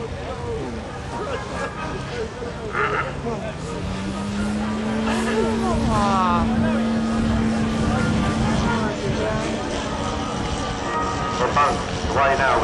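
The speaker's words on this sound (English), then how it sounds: "So Bones away now with his Spitfire." A scale model Spitfire flies at a model airshow in Hastings, its engine droning steadily at a distance along with other model aircraft noise, while an announcer's amplified commentary runs over the top.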